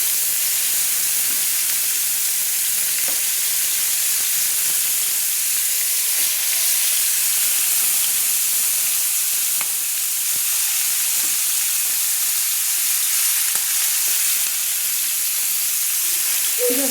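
Chicken pieces for chicken changezi fry in hot oil over a high flame, giving a loud, continuous hissing sizzle that stays even from start to finish, with no voices.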